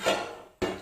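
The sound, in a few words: lid put on clay cooking pot with fish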